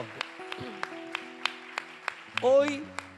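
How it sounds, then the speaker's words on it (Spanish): Steady rhythmic clapping from a church congregation at a women's retreat, sharp evenly spaced claps at a moderate level, mixed with singing or voices throughout and a brief louder vocal swell near the end. "Damos un aplauso al Señor y a estas discípulas de Cristo"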